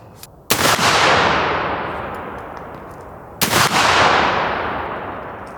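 A Hawken .54 black powder hunting rifle loaded with 100 grains of Swiss powder fires two sharp, loud shots about three seconds apart. Each blast rolls into a long, fading echo.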